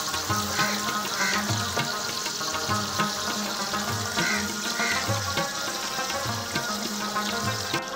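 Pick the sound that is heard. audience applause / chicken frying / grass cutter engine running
chicken frying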